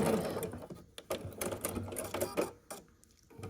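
A sewing machine runs in quick bursts while stitching a seam on a nine-patch quilt block, its needle chattering rapidly, then stopping briefly and starting again, close and fairly loud, with a voice faintly underneath.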